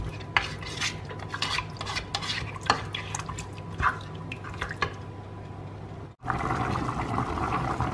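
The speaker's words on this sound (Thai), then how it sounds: "มันเดือดปุ๊บปุ๊บปุ๊บปุ๊บ" Thai chicken curry (om gai) with vegetables simmering in a pot, giving a steady close bubbling and liquid churn with a few clinks and stirring knocks, growing denser and louder toward the end.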